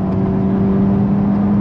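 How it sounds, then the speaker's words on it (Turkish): Honda Civic Type-R FK2 engine held under throttle, a steady loud droning rev with a strong low hum throughout, close and continuous with no voices. "gaza bastım, bak gaza bastım"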